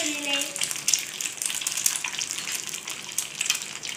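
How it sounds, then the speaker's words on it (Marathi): Food sizzling as it fries in a pan, a steady crackling hiss with small pops, close and moderately loud, with a brief tone at the start. "हे बघा आता आपण तळायला ठेवलेले आहे."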